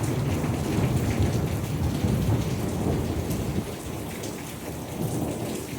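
Steady heavy monsoon rain pours during a summer thunderstorm in Tucson, Arizona, with thunder rumbling low beneath the dense hiss of falling water for the whole stretch, no voices.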